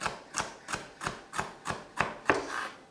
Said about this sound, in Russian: Вот и также быстренько нарезали соломочкой